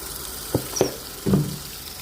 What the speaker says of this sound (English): We wash our machine right here. Rinse, rinse, rinse, rinse, rinse, rinse. Properly rinse